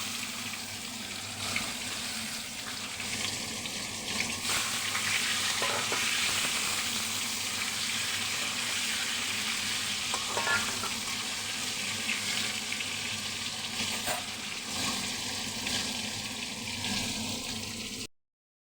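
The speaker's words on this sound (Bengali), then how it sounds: "আলুগুলি ভাজা হচ্ছে" Potatoes frying in hot oil in a pan with fish, cumin and bay leaf, a loud steady sizzle with occasional scraping stirs, continuous and close with no talking.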